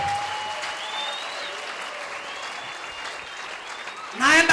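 A church congregation bursts into applause near the end, a sudden loud burst of clapping after a stretch of quieter room sound with a faint tonal voice.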